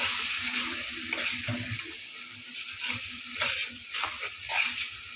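Spice paste for masala kasha sizzles steadily in a pan, broken by repeated scraping strokes of a spatula as it is stirred; close and moderately loud, with no voices.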